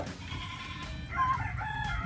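A rooster crows nearby, its wavering call rising and stretching out over a steady murmur of outdoor background noise.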